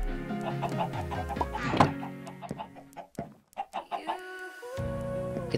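Minecraft chickens clucking in a burst of repeated clucks and squawks, fairly close and loud, then a short pause before a low steady tone.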